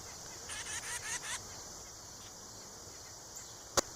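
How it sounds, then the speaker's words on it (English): A titmouse calls from a garden in late summer: a brief burst of thin, high repeated notes near the start, faint against a steady background hiss, followed by quiet and one sharp click. "can you hear that titmouse up there searching for seeds?"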